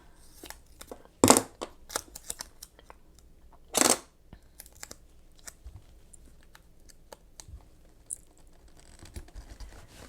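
Scissors cutting out a planner sticker box, with two loud crisp snips near the start and a scatter of quieter paper rustles, handling clicks and small taps throughout, no talking.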